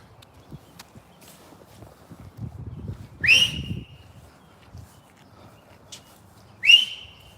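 Two sharp, high whistle blasts a few seconds apart ring out over faint rustling and footsteps outdoors.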